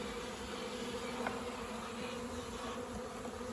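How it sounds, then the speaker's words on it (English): Honey bees buzz steadily inside the two honey supers of a healthy backyard beehive, a dense continuous hum heard up close with no talking. "you can see all the bees down in there in the 2 honey supers"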